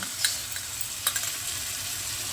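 Masala spice paste for a village-style drumstick curry frying in a pan, a steady close sizzle with a few brief stirring clinks, no talking.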